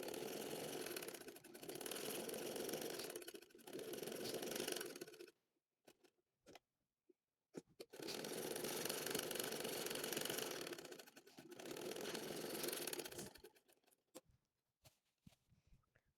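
A sewing machine stitching a seam on a baby shirt runs in steady close whirring bursts with brief pauses, goes quiet for about two seconds with faint clicks, then runs again in two longer stretches before stopping.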